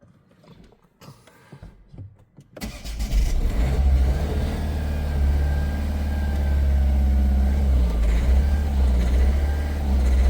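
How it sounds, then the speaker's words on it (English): A Ford C-Max 1.6 TDCi diesel with air in its fuel system after a fuel filter change turns over quietly, then catches and runs loud and steady with the revs held up, close to the microphone. "Keeping the revs up."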